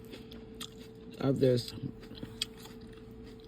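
Crunchy fresh bell pepper eaten with creamy crab salad: a brief cluster of close, crisp chewing bites in the middle, with a few words spoken around it.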